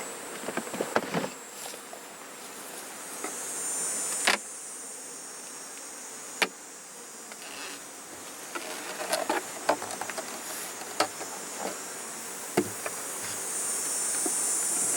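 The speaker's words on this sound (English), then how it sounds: "Fairly calm bees, which they have been the whole while" Calm honey bees at an opened hive, a soft continuous buzz running throughout, with scattered sharp clicks and knocks from handling the hive.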